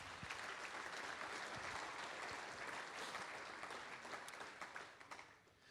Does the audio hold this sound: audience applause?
yes